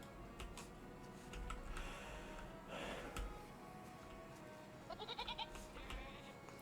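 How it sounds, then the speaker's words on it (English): Goats bleat faintly in a video game over a soft ambient background, with a short, quick series of bleats near the end. "I could swear I heard some goat noise near the pumpkin farm."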